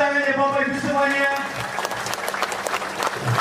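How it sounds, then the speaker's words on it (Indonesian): An audience applauds at the inauguration ceremony of the Wie Leng Keng Chinese temple in Palembang, with steady crowd clapping running throughout and voices and other sounds layered over it. "Mana tepuk tangannya Bapak Ibu semuanya?"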